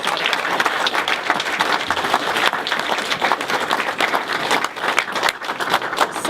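A creative economy event audience breaks into loud, sustained applause, many hands clapping in a dense, uneven patter that keeps going for several seconds with no voices over it.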